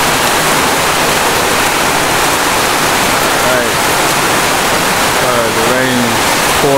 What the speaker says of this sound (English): The rain is pouring down.